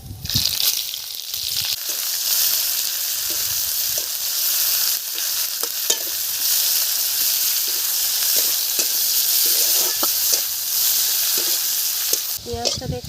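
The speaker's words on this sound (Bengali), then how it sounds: "পেঁয়াজটা দেখুন একদম লাল লাল করে ভেজে নিয়েছি, খুব সুন্দর ভাজা হয়ে গেছে।" Onion frying in oil with dried chillies and cumin for a village fish curry, a loud continuous sizzle close by with occasional spatula scrapes and stirring clicks throughout.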